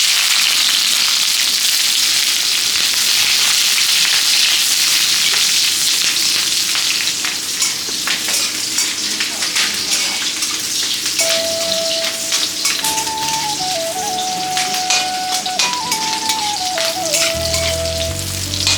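Dried red chilies, green chilies, ginger and garlic sizzle steadily in hot oil in a kadai, a continuous dense crackling spatter close up that fills the whole stretch without a break.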